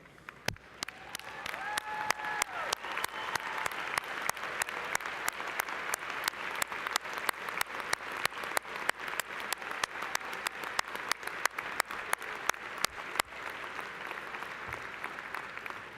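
A large commencement audience of university alumni applauds steadily for about thirteen seconds, with dense sustained clapping and a few louder claps, before it fades to quieter room sound near the end.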